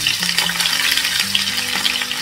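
Fish frying in ghee in a smoking-hot pan, a steady crackling sizzle with faint stirring clatter running unbroken throughout, close and fairly loud with no voices.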